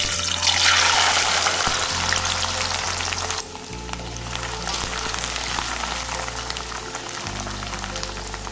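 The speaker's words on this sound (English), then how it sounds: "I've heated some sesame oil, and I'm going to roast the soaked almonds" Soaked almonds hit hot sesame oil and fry with a steady loud sizzle, bursts of crackle, and occasional stirring, with no voice over them.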